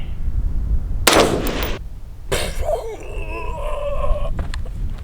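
A single sharp AR-15 rifle shot at an outdoor range, a loud crack followed by a brief ringing decay, then a second impact-like burst with tonal echoes trailing off.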